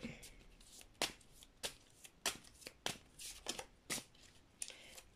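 Playing cards shuffled and drawn from a deck during a tarot-style reading, a run of crisp riffling bursts and sharp snaps at close range, with faint speech now and then between them.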